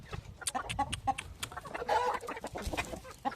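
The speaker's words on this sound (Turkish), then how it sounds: "Gerçek bir Hint horozu" An Indian rooster clucks in short, repeated bursts, fairly close, with other fowl sounds and light background noise around it.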